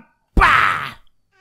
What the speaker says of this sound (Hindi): मेरे को एक बिल्ली भागते हुए दिखी है